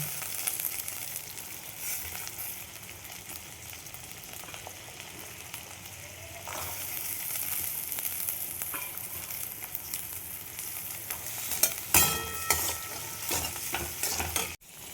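Green peas hit a hot pan and are stir-fried for chowmein, with a steady close sizzle and repeated spatula scrapes, sharper clattering stirs late on and no speech.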